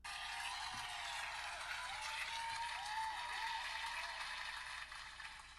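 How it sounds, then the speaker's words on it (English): Steady, dense applause from a crowd fills the whole stretch as a continuous wash of clapping, loud and even throughout, with no one talking over it. "We gotta give this a big round of applause."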